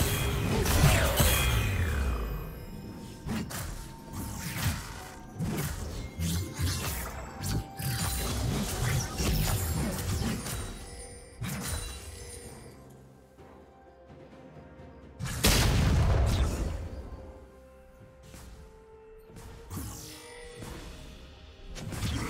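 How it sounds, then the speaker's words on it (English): A turret being destroyed in League of Legends: grinding mechanical crunches and crashing debris roll on through a busy stretch of game effects, with a heavy collapse surging up again later, loud and layered. "Blue team's turret has been destroyed."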